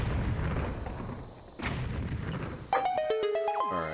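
Bomb blasts in The Legend of Zelda: Wind Waker during island exploration: a broad booming burst early on and another around the midpoint, followed by bright chiming game tones, with no talking.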